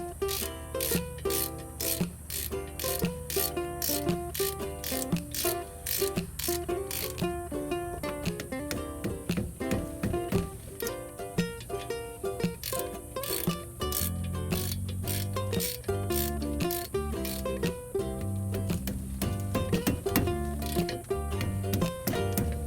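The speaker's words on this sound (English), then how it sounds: "So now let's secure the nut, the bolts." Ratchet wrench tightening the brake caliper bolts on a Toyota Corolla, a steady run of rapid, close clicking pawl strokes in repeated bursts throughout, with no talk.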